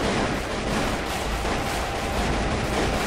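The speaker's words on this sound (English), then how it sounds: "he's going to drop bombs on us" Bombs dropped from an airship in the Airships: Conquer the Skies game rumble as a dense, continuous barrage of explosions, loud and unbroken, with no speech.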